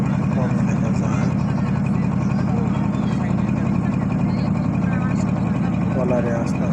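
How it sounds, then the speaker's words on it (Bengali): A trawler boat's engine drones steadily and loudly as the boat cruises slowly along a river through wetland in the afternoon, a constant low chugging with no breaks and faint water noise underneath. "ট্রলারে আস্তে আস্তে যাচ্ছি"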